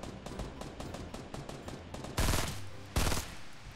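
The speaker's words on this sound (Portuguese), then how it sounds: "tá rolando tiroteio ali fora" Fortnite gunfire: a rapid string of close automatic shots, then two louder, heavier blasts near the end, each followed by a short ringing decay.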